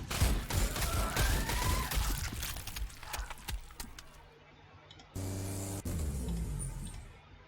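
Rapid bursts of gunfire in Warhammer 40,000: Sanctus Reach, dense crackling shots in the first half that thin out, then a short lull and a lower mechanical rumble with a few more reports.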